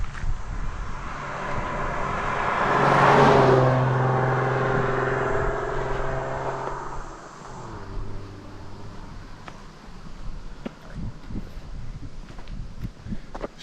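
Ford Mustang V6, brought over from the United States, runs and revs loudly up close, swelling to a peak before easing back to a steadier, quieter idle with wind noise over the microphone.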